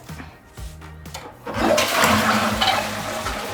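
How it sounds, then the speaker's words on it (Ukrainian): A toilet flushes just after cleaning, opening with a few knocks and clicks before a loud, steady rush of swirling water fills the rest of the clip at close range. "А тут ми можемо вже змивати."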